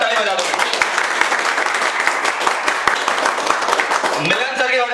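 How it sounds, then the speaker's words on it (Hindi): Loud, steady clapping from a training-class audience cheering for their teacher Milan sir, dense and continuous throughout, with a voice speaking over it near the end. "मिलन सर के जोरदार ताली बजा दो"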